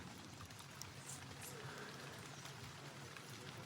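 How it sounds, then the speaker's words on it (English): Steady outdoor rain setting in, a dense continuous hiss of drops falling evenly throughout with no distinct individual sounds standing out. "Look at this amazing rain kicking in."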